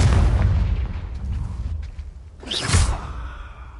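The Confringo fire spell in Hogwarts Legacy goes off with a loud, deep explosive boom, then a whooshing burst follows a couple of seconds later, with no voices over them.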